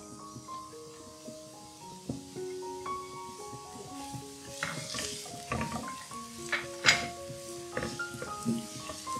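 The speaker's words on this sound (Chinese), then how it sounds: "适量的油，待油热后放入包菜" Cabbage stir-frying in hot oil in a wok, a soft continuous sizzle with clattering spatula scrapes and taps, under light background music.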